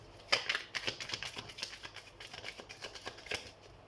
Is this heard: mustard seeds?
no